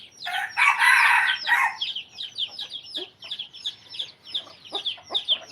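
Hens and chicks at a backyard feeding time, with rapid high chirps and clucks repeating throughout, loudest in a dense burst near the start, then steady nearby peeping.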